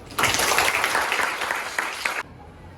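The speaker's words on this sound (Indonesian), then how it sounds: "Ayo tepuk tangan" A classroom of students breaks into applause after a maths lesson on right triangles, a dense burst of clapping that holds steady for about two seconds and then stops abruptly.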